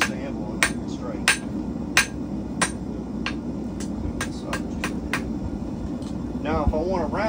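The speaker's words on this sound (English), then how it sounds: "Completely missed the anvil on that strike." A blacksmith's hammer rings against metal on an anvil while forging a hook and nail, giving sharp, loud, irregular strikes about once or twice a second, with talk in between.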